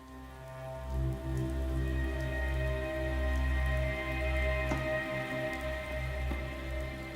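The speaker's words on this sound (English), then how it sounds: "the sound of rain on tin" Steady rain drumming on a tin roof, a dense continuous patter with a low rumble beneath, heard alone at moderate level with no voices.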